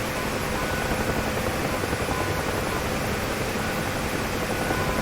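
A helicopter in the DCS flight simulator, flying over a southwest Afghanistan map, gives a constant loud rotor and turbine roar that stays dense and unbroken throughout.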